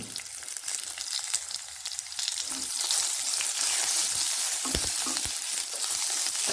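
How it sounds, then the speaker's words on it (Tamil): Sliced onions and curry leaves frying in oil for mutton masala, a loud continuous crackling sizzle that grows stronger partway through, with no voices. "இது எல்லாத்தையும் நல்லா லைட்டாக வறுபட்ட போதும்"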